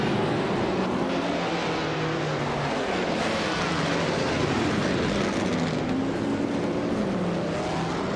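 Race cars in a racing video game roar steadily around the tight corners of Calafat circuit, several engines overlapping in a continuous loud drone with shifting pitch as they jostle for position.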